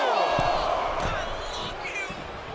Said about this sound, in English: JBL getting the crowd riled up right now.